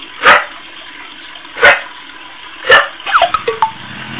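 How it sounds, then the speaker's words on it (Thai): A dog inside a house barks at a stranger arriving with a delivery: three sharp, loud barks spaced about a second apart, then a quick run of higher, squeakier yelps and whines, with no talking. "น้องหมาน้องหมาก็เห่านะเห่านะ"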